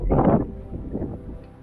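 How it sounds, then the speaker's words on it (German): Stormy winter wind buffets a microphone on the Unterberg mountain, a loud low gust roaring for the first half second, then dropping to a weaker, rumbling rush with smaller swells. "Morgen ist ganz schön stürmisch."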